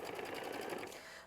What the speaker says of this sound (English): we're going to sew machine stitch step 26, which is basically just going to put a little angled line here at the bottom